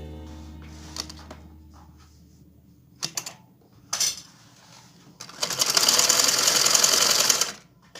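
Sewing machine stitching a neckline on a garment, with short taps and bursts early on, then a loud, steady run of stitching lasting a couple of seconds near the end.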